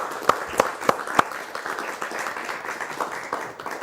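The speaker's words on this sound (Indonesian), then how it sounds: "boleh tepuk tangan." A few sharp claps ring out, then a steady spread of applause from a TV studio audience continues at moderate loudness.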